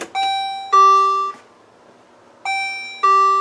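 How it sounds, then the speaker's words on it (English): Two-note electronic chimes ring in a repeating pattern, two pairs separated by a short pause, clear and close with no talking: the key-in reminder chime of a Land Rover Defender NAS 90. "North American vehicles have to have a thing in to tell you when the key's in"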